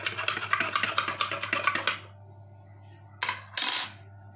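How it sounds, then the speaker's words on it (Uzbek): A spoon stirs stain remover powder into water in a container, making quick clinking taps against the sides for about two seconds. After a pause come a couple of brief scraping knocks. "Keyin пятновыводительni suvga solamiz. Shuncha solsa ketadi. Aralashtiramiz."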